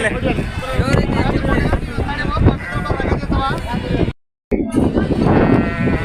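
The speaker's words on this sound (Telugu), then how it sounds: "ఇవన్నీ మేకపోతే పిల్లలు, పెద్ద సైజు మేకపోతే" Young male goats and large bucks at the Kunta goat market in Ongole bleat repeatedly amid a loud, crowded livestock din, with people talking throughout and a brief dropout near the end.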